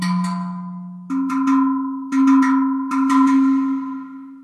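Pitched hits from the Tangent Drum plugin by Audio Brewers, with the reverb decay being adjusted. Several bright, ringing tuned-drum strikes come in small clusters, each leaving a sustained tone that fades slowly, with no voices.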